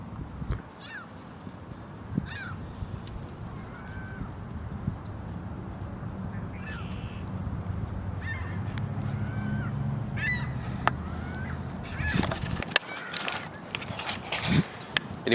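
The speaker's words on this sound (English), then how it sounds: "just these little geese having some fun" Outdoor geese give scattered honks and calls over a murky background rumble, with a louder cluster of sharp sounds near the end; the birds sound moderately distant.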